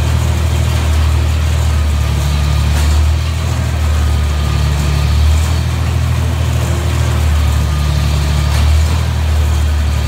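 A tractor engine on a farm with a manure spreader runs loud and close for a sustained stretch, a heavy low rumble with slight surges in revs and no talking.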